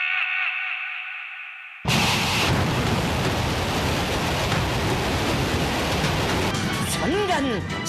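A Hwasong-17 missile launch erupts as a sudden, loud, broadband roar with reverberant rumble, following a short muffled tonal passage and sustaining to the end.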